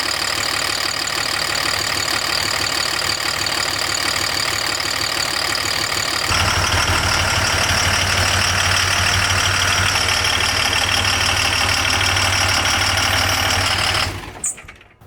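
A common-rail Cummins diesel swapped into a 6.4 Ford dually runs continuously with a loud, clattering knock and steady drone, deepening into a heavier rumble partway through before cutting off near the end; no talk.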